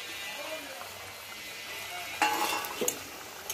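Bottle gourd kofta curry gravy bubbles in a pan, a low steady sizzle-like simmer, then a burst of louder clinks and stirring clatter toward the end.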